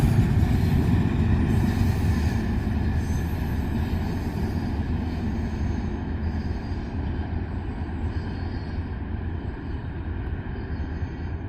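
Loud, continuous roar of a short freight train rolling through a rail crossing in Beaver County, Pennsylvania, wheels clattering steadily on the rails and easing slightly as the cars pass.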